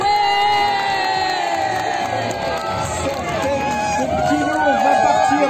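Large crowd at a harbour festival in Villefranche-sur-Mer cheering, whooping and shouting continuously at loud, even volume, with children's shrieks among the roar.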